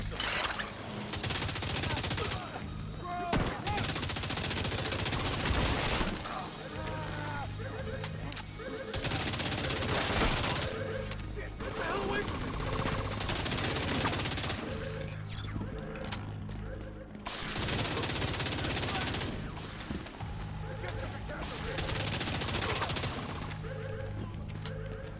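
Savage Wolverine gunfire in the video game The Division 2, loud dense bursts of rapid shots in several long volleys separated by brief pauses, over game ambience.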